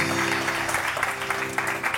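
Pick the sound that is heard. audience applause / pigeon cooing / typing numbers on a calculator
audience applause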